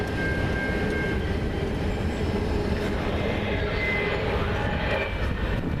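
A CN freight train led by locomotive 3108 rumbles past at Ladysmith. The wheels roar heavily and steadily at close range, with faint squeals over the continuous rolling noise.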